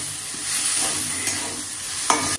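A spoon stirs a vegetarian khichuri dish in a pan with ghee and sugar, with a continuous frying sizzle and scraping near the mic. A sharper scrape comes at the end.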